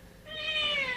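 A single drawn-out cat meow, close and fairly soft, rising then slowly falling in pitch, heard alone.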